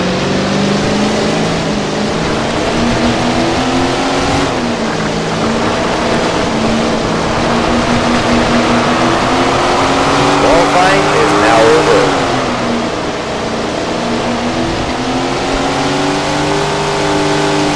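Sprint car racing engine in the Tony Stewart Sprint Car Racing video game, a loud sustained drone with rising and falling pitch as the car runs through corners, continuous throughout with a voice talking over it.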